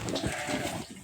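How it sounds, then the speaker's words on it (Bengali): Goats bleat together at a goat farm in Dammam, Saudi Arabia, while eating. The overlapping bleats form a dense, continuous chorus. "সব ছাগল খাবার খাচ্ছে"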